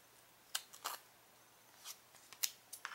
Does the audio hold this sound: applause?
no